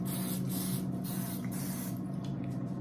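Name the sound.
spray butter sprayed on spring rolls for the air fryer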